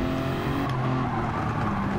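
Race car engines roar in Gran Turismo 7 during a neo classic challenge race: a loud, continuous, buzzing drone with a shifting pitch as cars run close together, and a brief sharper swell partway through.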